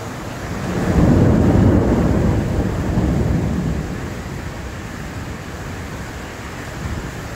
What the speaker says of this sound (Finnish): Sade ja ukkonen yllä.